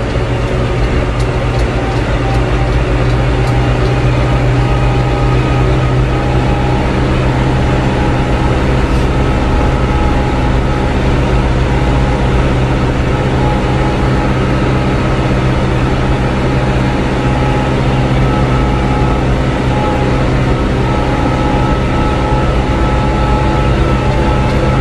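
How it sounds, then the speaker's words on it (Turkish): A New Holland TD75D tractor engine runs steadily throughout, a loud, continuous low diesel drone with a constant rumble and no pauses, heard close up while driving to a feed mill. "Çünkü traktörün sesi benim sesimi bastırıyor."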